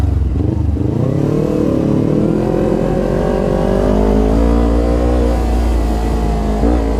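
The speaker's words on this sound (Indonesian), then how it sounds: "Galak sih ini motor." A motorcycle engine revs loudly up close, its pitch climbing and holding with a rough, throaty drone and no talking.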